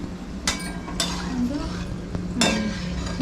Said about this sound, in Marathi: शंकरपाळ्या तळायचं काम चाललेलं आहे इथे.